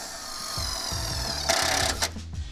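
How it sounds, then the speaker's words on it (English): A power tool drives a self-tapping screw into a Mustang during work on a 4.6-liter engine setup, with a close, whirring motor that pulses in short bursts and ends in a sharper grinding burst near the end. "using a self-tapping screw"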